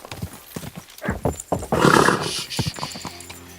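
A horse in Kingdom Come Deliverance II, hooves clip-clopping in quick bursts followed by a loud whinny, close and clear with no talk.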